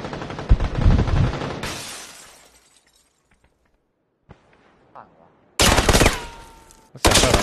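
Gunfire in a shooting video game, loud bursts of shots and shattering impacts at the start and end with a near-silent gap between.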